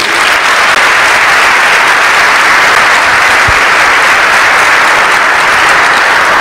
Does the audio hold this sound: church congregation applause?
yes